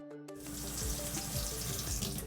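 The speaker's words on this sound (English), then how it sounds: "First, wet your hands with clean running water." Clean running water pours steadily from a sink tap for hand washing, a continuous close splashing rush that starts abruptly after a brief quiet moment and carries on alone.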